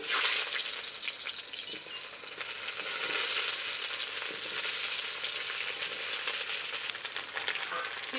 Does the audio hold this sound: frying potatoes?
yes